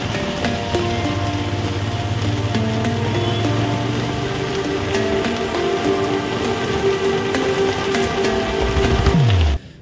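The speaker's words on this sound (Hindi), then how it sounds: "बारिश हो रही है ना" Steady rain patters densely and evenly on a surface, with a low rumbling hum beneath, ending abruptly.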